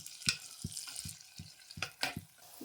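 Okra sautéing in oil in a pan for a ladies finger kara kulambu, with soft frying crackle under repeated stirring scrapes that come in a loose rhythm, close and fairly quiet.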